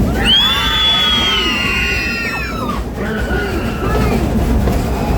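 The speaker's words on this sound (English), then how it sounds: "that was some really good screaming, everybody" Passengers aboard a moving steam train let out a loud, sustained chorus of screams in two long waves, over the steady rumble and clatter of the rolling cars.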